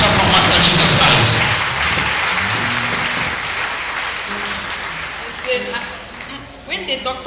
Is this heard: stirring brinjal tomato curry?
no